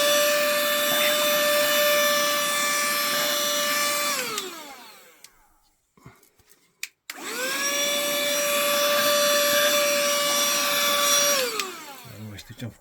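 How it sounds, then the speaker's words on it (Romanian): A vacuum cleaner sucks dust from inside an opened PS3 console, a loud steady whine that winds down, falls silent for a couple of seconds, then starts up again and runs before cutting off near the end. "Să mai aspir un pic și pe aici."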